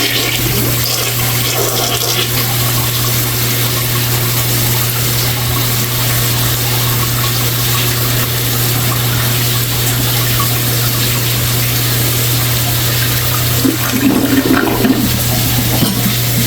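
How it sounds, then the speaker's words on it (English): A toilet flushes during an overflowing sewer blockage, a long, loud rushing gush of water over a steady pump-like hum that runs on for many seconds, with a brief extra surge of churning near the end. "Let's give it a flush."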